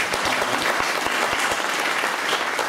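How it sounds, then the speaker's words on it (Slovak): Audience applause at the opening of a 2018 school ball: dense, steady clapping from a large crowd in a hall, sustained throughout without any voices. "toto si zaslúži potlesk"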